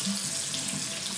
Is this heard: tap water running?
yes